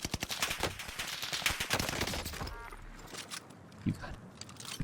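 Rapid automatic gunfire fills a Warzone match, with dense bursts of shots up close, then sparser distant pops, and a voice talking briefly under the shooting.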